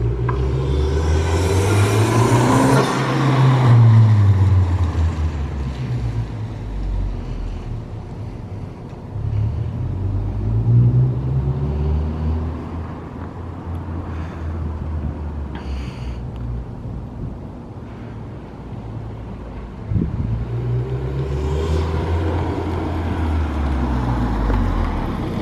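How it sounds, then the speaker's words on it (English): A Honda Civic Si fitted with a Type-R exhaust passes by several times, its engine note rising and falling with a Doppler sweep as it approaches and recedes, with a low rumble between passes. "I'll do one just so you guys can see what the car sounds like driving by it now"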